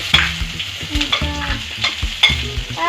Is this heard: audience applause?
no